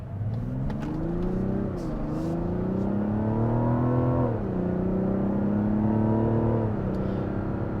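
A Mazda CX-90 SUV engine accelerates smoothly through several gear shifts from inside the cabin, its tone rising, dropping at each shift, then climbing again, steady and fairly loud with no talk.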